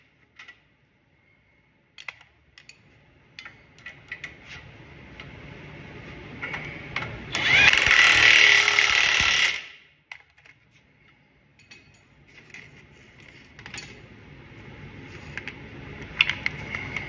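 A power tool tightens axle nuts in one loud, sustained burst of about two seconds, set among quieter ticks and small handling clicks, with no one talking.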